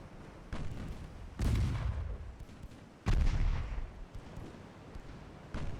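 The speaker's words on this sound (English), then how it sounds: "There aren't even that many range guns firing" Heavy naval guns boom in the UAD DIP naval game, set in an 1893 French campaign with a light cruiser: two loud, deep blasts about 1.5 seconds apart, each rolling off, over a low rumbling background.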